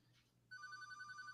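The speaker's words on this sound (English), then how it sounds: "I apologize for the phone. Let me mute here." A phone rings with a short electronic ringtone, a clear warbling trill cutting in suddenly over a quiet room during a conversation.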